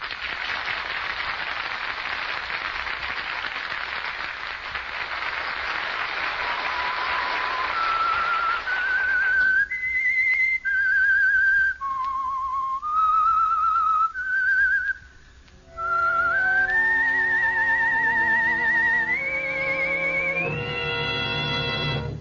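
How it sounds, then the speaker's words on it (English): A whistled melody serves as the theme of the radio mystery drama The Whistler, with a clear solo whistle tracing a slow, eerie tune over a noisy, hissing background and then over a band of sustained orchestral tones, long and prominent with no talk. "That whistle is your invitation to another Meisterbrow mystery drama presented by the Whistler."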